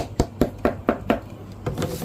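Knuckle taps on a 3D-printed PETG speaker part, heard as five evenly spaced, close, hollow knocks followed by a couple of softer ones.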